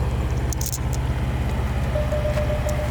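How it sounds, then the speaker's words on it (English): A car approaches and passes on a road, a low steady engine rumble with tire noise that holds throughout, moderately loud and nearby, and no one speaking. "I got a car coming."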